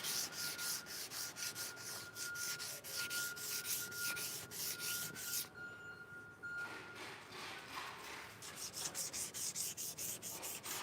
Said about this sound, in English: I'm going to go back with this scrap piece of sandpaper here, and I'm just going to go over this corner